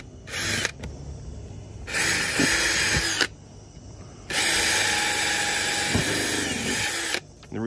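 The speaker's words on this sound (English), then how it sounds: "I'm going to finish off the holes with the forstner bit." Power drill boring holes with a Forstner bit, finishing holes for an arcade cabinet; three loud whining bursts of drilling separated by short pauses, close and alone.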